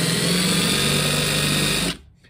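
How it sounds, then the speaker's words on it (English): A handheld power drill, run in reverse against a nail head in pallet wood, whirs at a steady high whine for about two seconds before stopping abruptly; no talking. "So I get a drill that's the size of the head of the nail, and I go reverse backwards."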